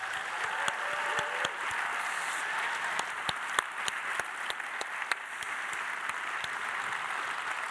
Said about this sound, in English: So if you could just all give a massive round of applause for all of that work